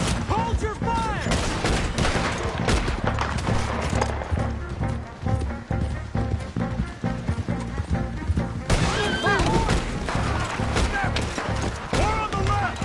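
Rapid volleys of rifle and gunshot fire crackle continuously in a Red Dead Redemption 2 mountain battle, mixed with horse hooves and shouting voices, loud and chaotic, with a brief slightly quieter lull midway before the shooting intensifies again.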